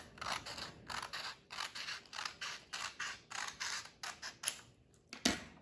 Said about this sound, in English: cut a section of that paper off